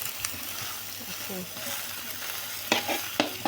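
Luffa and egg stir-frying in a pan over medium-low heat, a continuous sizzle broken by a couple of sharp spatula scrapes and clinks near the end, with faint background noise.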